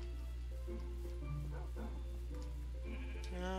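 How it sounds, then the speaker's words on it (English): Sheep bleat repeatedly in the Minecraft video game, with several wavering calls overlapping over a steady low background hum. The bleats are moderately loud, and nobody speaks. "Lots of sheep."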